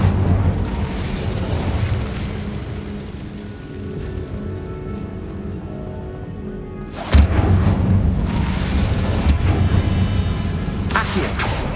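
Incendio fire spell from Hogwarts Legacy, a sudden loud burst near the seven-second mark followed by a sustained roaring, crackling rumble, after a quieter stretch of background game ambience and music.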